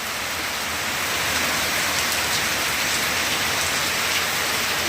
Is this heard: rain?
yes